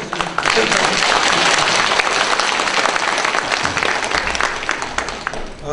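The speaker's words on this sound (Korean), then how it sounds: "박수 좀" An audience at a Korean folk painting forum applauds, a dense, steady burst of clapping that holds throughout at close range.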